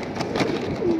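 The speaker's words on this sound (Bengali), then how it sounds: "মূলত কবুতরগুলো কখনো খাঁচায় ঢুকে না।" Domestic pigeons coo softly and close by, a couple of low throaty coos in quick succession with no voices over them.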